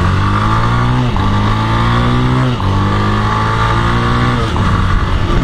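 A 1983 Honda TLR 200 trials motorcycle revs hard and climbs through its gears, with about three distinct shifts where the engine note drops and then rises again. The engine is close and loud, and no one speaks.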